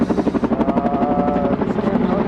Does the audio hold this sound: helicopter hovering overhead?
yes